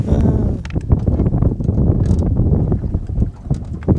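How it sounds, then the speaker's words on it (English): Wind gusts hard across the microphone while fishing, a loud close buffeting rumble with rapid uneven flutter and no clear pauses. "And the wind starts to blow."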